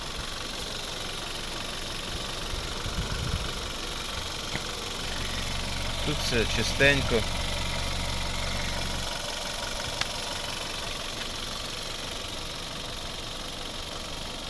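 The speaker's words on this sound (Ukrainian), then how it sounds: "Це робота двигуна." A 2010 VW Golf Plus 1.4 TSI petrol engine idles with a steady low hum and slight knocking; someone speaks briefly over it.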